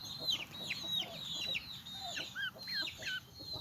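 Young Turken and Australorp chickens cluck and chirp repeatedly in a farmyard pen, close and moderately loud, with short bursts over a soft background.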